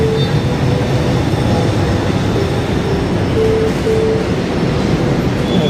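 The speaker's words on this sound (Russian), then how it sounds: "Вот так выглядят надземные поезда в Маниле сервиса под названием «Метро»." An elevated Metro train in Manila rumbles along steadily, a loud continuous rolling roar with wheel noise and a few faint intermittent squeals, no voices over it.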